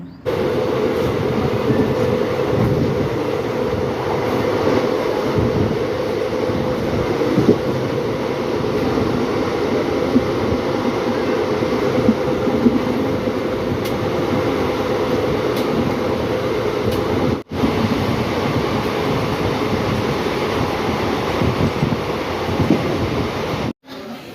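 Passenger train rolls along the rails in a continuous deep rumble heard from inside the carriage, a steady roar broken only by one brief dropout.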